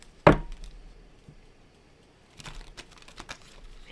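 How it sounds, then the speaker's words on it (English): A deck of tarot cards being shuffled: one sharp, loud snap of cards, a quiet pause, then a second run of quick crackling flicks and riffles. Close by, with no talking. "Alright, one more shuffle."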